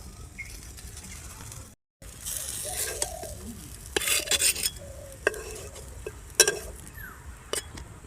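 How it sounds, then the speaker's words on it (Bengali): Eggplant slices fry in a pan without oil, with a soft sizzle and repeated scraping and clinking of a utensil against the pan, close and without talk. "এরকমভাবে সেম প্রসেসে সবকটা বেগুন ভেজে নেব"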